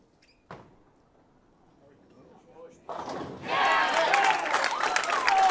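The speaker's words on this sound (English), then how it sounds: "You hear the crowd" At a junior bowling stepladder finals, the hall is quiet apart from a single thump at first. A crowd then erupts into loud cheering and applause, which swells and holds to the end.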